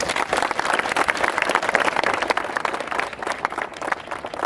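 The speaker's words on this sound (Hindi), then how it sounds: "माननीय आलोक दुबे जी, एक बार जोरदार ताली" Loud, enthusiastic applause from an audience at a patriotic Amrit Mahotsav gathering welcoming an honoured guest, dense continuous clapping mixed with crowd noise throughout.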